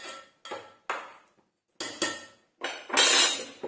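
A spoon scrapes and knocks against a pot as ragi flour is mixed with salt, giving about seven distinct close strokes, each a sharp metallic scrape fading out, the last one longer and louder.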